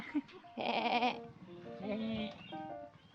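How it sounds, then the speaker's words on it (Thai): A goat bleats once, a loud, wavering cry lasting about half a second, at an animal club in Khao Yai, with voices talking around it. "แพะ"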